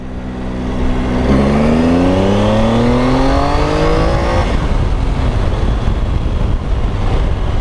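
2018 Triumph Tiger 800 XRx motorcycle accelerating hard in second gear from about 21 mph, engine pitch climbing steadily for a few seconds before settling into a loud steady drone, close up with no talk.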